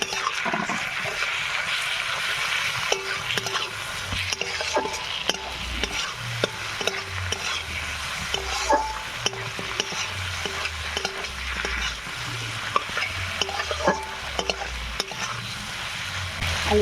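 Onion and potato fry in a pan with ginger garlic paste, turmeric, chilli powder, cumin powder and tomato, sizzling steadily with repeated scraping stirs, close and continuous, no voices.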